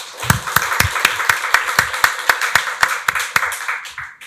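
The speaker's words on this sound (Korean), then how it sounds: "박수로 하나님께 영광 돌리겠습니다." A church congregation clapping together at a Sunday service, about sixteen loud, evenly spaced claps in a steady rhythm, close and alone without talk.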